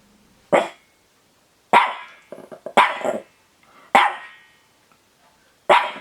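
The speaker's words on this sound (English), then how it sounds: "I have an example of the barking." A dog barks sharply five times in an uneven rhythm, close and loud, with a short growly grumble between barks.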